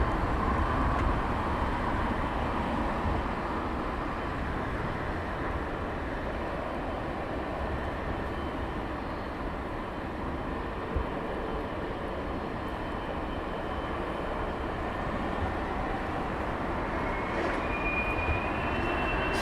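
A British Airways Boeing 777 rolls down the runway on takeoff at Heathrow Airport. A steady, broad roar holds at an even level throughout and sounds fairly distant, with no voices.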